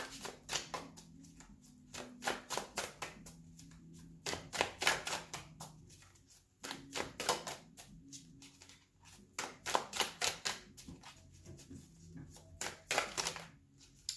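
A deck of tarot cards is shuffled by hand in quick, rapid riffling bursts, with soft taps and card flips between the bursts, close and fairly loud with no talk.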